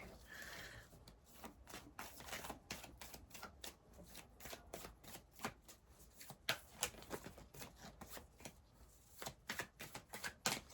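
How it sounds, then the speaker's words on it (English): A deck of playing cards is shuffled over and over, quick rippling riffles and soft clacks in uneven bursts, close but quiet, with no talking. "It's important to have a thoroughly shuffled deck."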